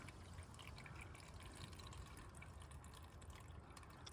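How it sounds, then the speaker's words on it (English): Spring water running from a pipe at Cooper Lodge on the Appalachian Trail into a CNOC water bag, a steady close trickling fill that holds constant throughout with no talking. "Letting my CNOC bag fill up."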